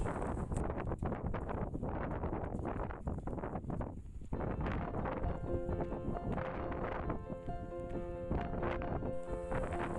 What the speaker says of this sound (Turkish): O kadar rüzgar var ki telefonu ve gimbal'ı zor zapt ediyorum.